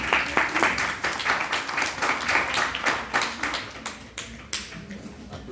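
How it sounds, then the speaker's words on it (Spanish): A lecture class applauds together at the end of a surgery lesson, with dense, steady clapping from many hands that holds for several seconds and thins out toward the close. "Aplauden porque se ha acabado la clase, ¿no?"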